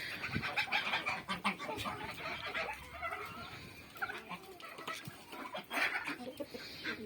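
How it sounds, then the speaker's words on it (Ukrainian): Geese and turkeys clucking and calling nearby at morning feeding, a busy farmyard chorus of birds with scattered honks and squawks over a low background. "гуси"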